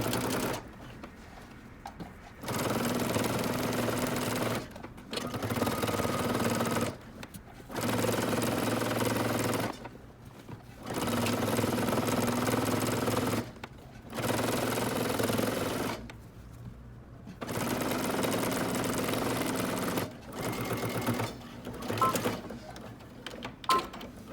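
A sewing machine runs along a dress seam at a 5/8-inch allowance in repeated bursts of a few seconds each, separated by short pauses, close and clear.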